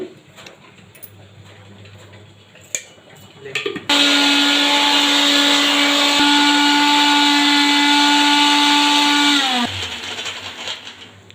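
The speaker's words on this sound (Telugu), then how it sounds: "ఇవన్నీ వేసేసి మిక్సీ పట్టాలి" A mixer grinder grinding chutney for idli starts suddenly and whirs loudly and steadily for several seconds, then shuts off, with quieter kitchen handling before and after.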